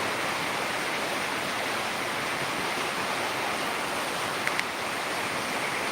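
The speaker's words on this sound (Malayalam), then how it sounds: "അത്ര ഭയങ്കരമായ മഴയാണ്" A heavy downpour in Peringottukara, Thrissur, Kerala, roars in a constant, dense hiss, loud and unbroken throughout.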